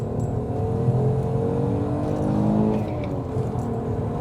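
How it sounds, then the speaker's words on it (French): An Italian V6 road car, a 190-horsepower sleeper, revs steadily toward 7000 rpm, its engine note rising and holding loud and close throughout without talk. "On veut entendre ce V6. C'est un moteur qui monte jusqu'à 7000 tours"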